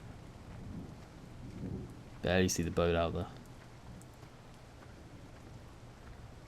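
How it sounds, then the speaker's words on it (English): Rain and thunder weather effects in Farming Simulator 17 on the Sandy Bay map. A steady hiss of rain fills the background, and someone speaks briefly over it in the middle. "the rain effects that he's added in"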